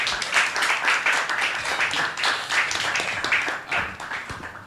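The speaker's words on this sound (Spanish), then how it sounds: "primero voy a pedir un fuerte aplauso para ustedes mismos por haber venido aquí hoy" Audience applause at a literary round table on earning a living from writing, a steady roomful of clapping sustained throughout without talk.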